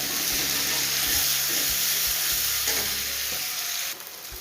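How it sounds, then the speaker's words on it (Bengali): Chopped onions sizzle in a hot pan, a steady crackling fry broken by repeated scrapes and stirs, ending in a quieter tail. "পেঁয়াজটা একটু ভালো করে ভেজে নেব।"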